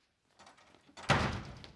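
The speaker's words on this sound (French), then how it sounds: "on ouvre la porte" On a theatre stage, a door is pushed open with a soft rattle, then gives a louder wooden thunk and a lingering rumble, close and alone.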